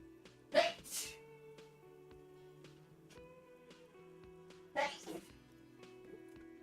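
Two sneezes come close by against a quiet background with a faint tonal hum, the first near the start and the second later, each with a sharp burst.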